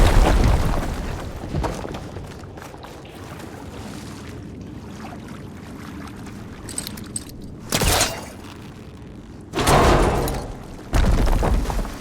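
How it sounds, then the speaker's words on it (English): Explosions from blowing up a firegleam deposit in Horizon Forbidden West on PS4: several heavy booming bursts, loud and close, separated by rumbling ambient gameplay sound. "Should be able to blow up that fire gleam"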